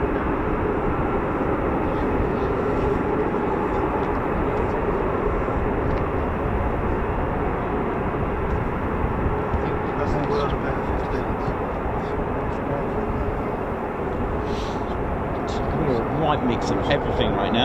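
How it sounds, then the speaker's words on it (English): F-15 fighter jets take off during a mass launch at an air force base, a broad distant roar of jet engines rumbling continuously, with people chatting nearby throughout. "Oh yeah, I can hear the nozzles as well, the F-15s now, sort of."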